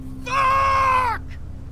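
A character screaming in Telltale's The Walking Dead video game, one loud, piercing, drawn-out cry lasting about a second, close and clear over a low background hum.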